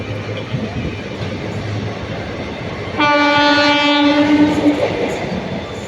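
A passenger train speeds through without stopping at a station in Tamil Nadu, a steady rumbling roar of wheels and cars heard from on board, joined midway by a loud, sustained horn blast for nearly two seconds.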